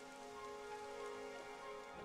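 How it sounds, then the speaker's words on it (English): Steady rainfall patters across surfaces in the video game Dragon Quest XI S, a continuous close hiss of drops alone with no talk, accompanied by faint sustained tonal layers underneath. "It would have to go and start raining, wouldn't it?"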